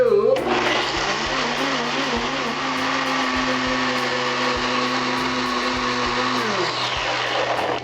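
A countertop blender whirs at full speed through a tapioca wrap sauce, starting abruptly and running loud and steady for several seconds before spinning down at the end, with no talking.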